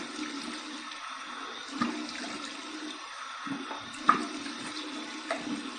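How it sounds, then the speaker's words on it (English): Running tap water and splashing during a cold-water face rinse after a shave, a steady close flow with a few sharper splashes over it. "A couple of splashes for my cold water rinse to close the pores."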